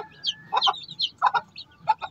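A native Black Shamo Aseel hen clucks softly in short, close, repeated bursts of low calls, with small chick-like peeps in between.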